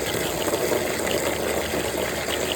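Water pours steadily from an upturned container into a chicken and duck waterer, a continuous close splashing gush that runs without a break throughout.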